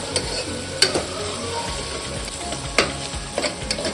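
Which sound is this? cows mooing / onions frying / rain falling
onions frying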